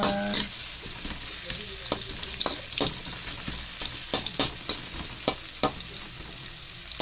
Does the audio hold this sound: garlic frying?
yes